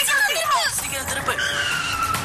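A car turns sharply with its tires skidding and squealing on the road, a loud high screech gliding down in pitch and then holding steady, with voices and motor noise mixed in.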